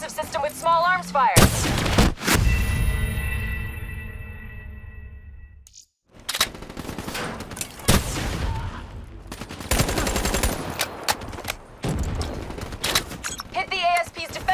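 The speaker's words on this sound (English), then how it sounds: "Keep hammering its defensive system with small arms fire" Small arms gunfire in Call of Duty Black Ops 3, loud sustained bursts and rattling volleys with a short lull midway, mixed with game effects and a voice speaking over it.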